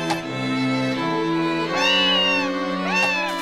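In Harvest Moon: A Wonderful Life, a cat gives several drawn-out meows, loud and close, with a rising, wavering pitch.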